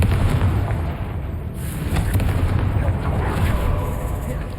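Confringo blasting-spell explosions in the Hogwarts Legacy video game form a loud, dense, continuous roar of booming blasts with no clear gaps, and a voice may sit faintly beneath the din.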